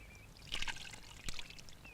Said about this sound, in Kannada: ಇನ್ನೂ ಸ್ವಲ್ಪ ನೀರು ಹಾಕಿ ಸರ್.